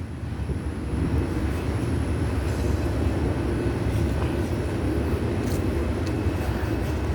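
Union Pacific manifest freight train with hopper cars rolling past, a steady broad low rumble sustained for several seconds, moderately loud with no talking.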